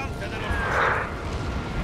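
Cannon fire from Total War: Napoleon rumbles into a continuous, muffled blast of explosions as shells land among troops, with a broad swelling burst midway and the battle din carrying through, voices talking over it.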